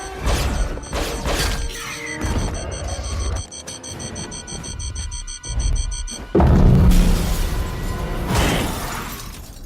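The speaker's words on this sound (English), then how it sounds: "It's a ratchet through the glass, and then there's a 20-foot fall" A stunt performer is pulled by a ratchet rig through breaking glass: mechanical clanking and ratcheting bursts, then a loud crash of shattering glass near the end, all close and forceful without talk.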